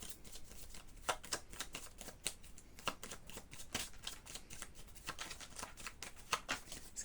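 Tarot cards being shuffled and drawn, heard as quick, crisp riffling snaps and flicks in irregular bursts, close and fairly quiet with no talk.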